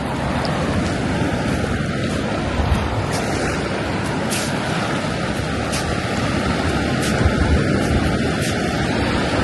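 Surf rolling in at a sunny seashore where someone wades in salt water: a steady, full wash of breaking waves with wind rumble across the microphone, close and continuous, with no talk over it.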